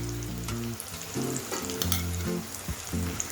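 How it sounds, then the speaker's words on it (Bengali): Spice paste hits hot oil with ginger and garlic, sizzling and spitting steadily at close range while a spoon stirs it, the frying continuous and fairly quiet, with no voices. "এর মধ্যে আমি মশলার পেস্টটা অ্যাড করে দিচ্ছি"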